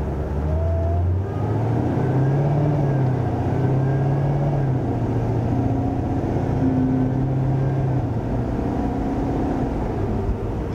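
A supercharged LT4 car with a big cam and stock converter drones steadily while driving, its low engine note heard from inside the cabin as a continuous rumble with slight shifts in pitch and no talking.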